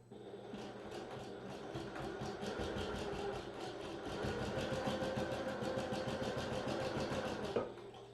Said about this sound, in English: be able to sew through just those 2 bits of strap there